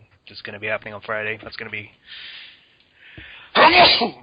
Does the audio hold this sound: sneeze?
yes